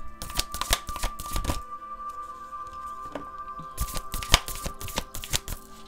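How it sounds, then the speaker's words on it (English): A deck of tarot cards is shuffled up close in two quick bursts of crisp riffling and slapping, separated by a few quiet seconds with only a faint steady hum. "You guys saw how much I shuffled."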